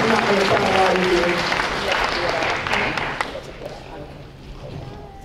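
An audience at a school dedication for the newly renovated Rothenberg Preparatory Academy claps loudly at first, then the applause gradually thins and fades as a voice begins to speak.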